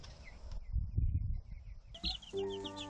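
Chicks in a hen house peep in short high bursts that come close and then tail off, along with low rustling and a brief louder chirping at the end.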